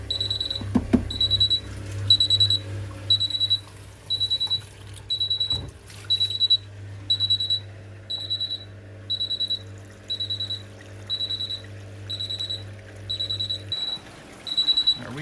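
Miele Novotronic W1613 washing machine with an F63 fault sounds a repeating electronic beep in short regular bursts, loud and high over a low steady hum from the running pump, which stops near the end.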